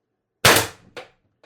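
A CO2 air gun with a 4x12g CO2 stock fires one sharp, loud shot that decays quickly, followed by a fainter secondary pop and a small trailing click.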